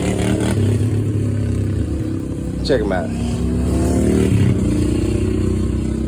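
Motorcycle engines drone and rev loudly nearby, rising in pitch a couple of times, while a person speaks briefly over the noise.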